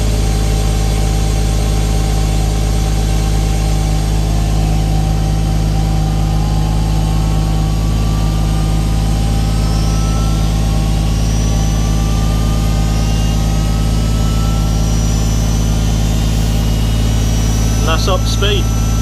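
Steady mechanical whine and low hum of an electric hydraulic power steering pump running continuously near a mk3 Toyota Supra engine with the bumper off, with a rising tone and brief clicks near the end.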